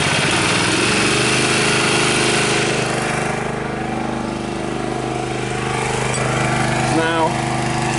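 A hydraulic extrication tool's power unit runs as a steady, loud engine drone with a constant hum throughout, rising slightly toward the end, and a voice can be heard over it.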